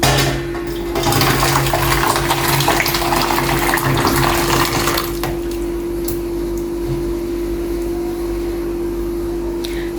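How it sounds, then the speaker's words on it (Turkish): Boiled homemade jam poured from a pot into a tray in a home kitchen, a loud thick sloshing pour lasting several seconds before it eases into quieter background noise. "Evet reçelimizi kaynattık. Şimdi böyle tepsiye dökeceğiz."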